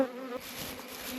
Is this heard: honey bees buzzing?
yes